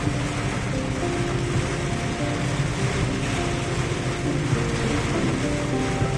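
Heavy monsoon rain roars in a steady, dense wash around a car on a drive, loud and unbroken, with a low engine drone humming beneath it and no voices.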